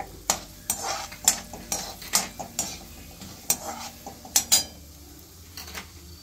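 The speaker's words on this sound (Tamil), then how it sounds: "அடுத்து உளுத்தம் பருப்பு போட்டுக்கோங்க. கடுகு போட்டுக்கோங்க." Urad dal and mustard seeds fry in hot oil for ragi rava upma, with repeated sharp scraping and stirring strokes of a spoon against the pan over a steady low sizzle, close and fairly loud.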